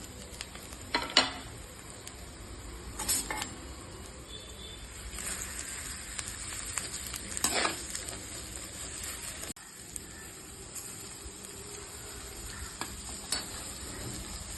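Onions sizzling in hot oil in a pan right after mustard seeds splutter, a steady soft frying hiss with occasional stirring scrapes and brief pops, no talking.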